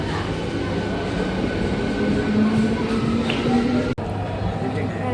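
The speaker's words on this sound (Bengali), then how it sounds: "ট্রেন চলে গেল হাওড়ার উদ্দেশ্যে" A local train bound for Howrah pulls out of Bally station, a close, steady rumble of rolling cars with rising wheel whine and a sharp click near the end, amid faint station voices.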